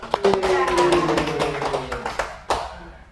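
A small group in a classroom-style session claps hands in a short, fairly loud burst of overlapping claps that tapers off, then one last clap near the end.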